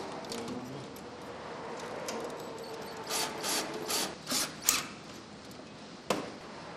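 Short repeated scraping and ratcheting bursts of a screwdriver tightening a metal hose clamp during a fuel system install, close by, with a sharp click near the end.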